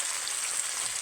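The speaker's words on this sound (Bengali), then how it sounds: "আলু দিয়ে দিয়েছি, কচুগুলো দিয়ে দেবো। এগুলোকেও লাল লাল করে ভেজে নেব।" Potatoes and taro pieces, rubbed with salt and turmeric, fry in hot oil with a steady, dense sizzle that holds at an even level throughout, close up and with no talk over it.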